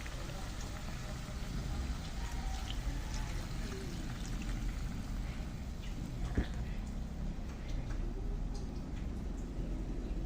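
Water pours steadily into a pot of boiling food, a soft continuous splashing under a busy background hum, with no talking.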